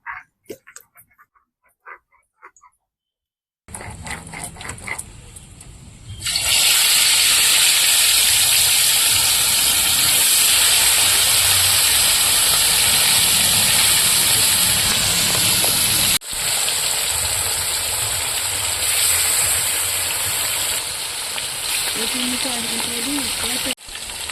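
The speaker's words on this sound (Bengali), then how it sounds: "কড়াই গরম হয়ে গেছে মাছ ভাজার জন্য আমি সাদা তেল দিয়ে দেবো কড়াইতে" Catla fish frying in hot white oil in a wok: after a few quiet seconds a loud, dense sizzle bursts in and holds steady and close, with a brief dip near the middle before it carries on.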